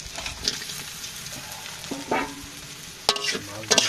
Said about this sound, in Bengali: পেঁয়াজ ভাজি করবো পেঁয়াজ ভাজি করা হয়ে গেছে এখন